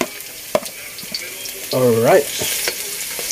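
Garlic hits a hot pan and fries with a soft crackling sizzle beneath a brief spoken word, then stirring and light clatter continue while a high-pitched tonal sound rises and falls midway.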